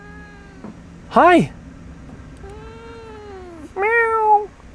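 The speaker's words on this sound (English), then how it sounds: "Oh, that was a cat." A cat meows in a forest camping game, two or three clear, tonal meows rising and falling, close and moderately loud, with a person briefly speaking.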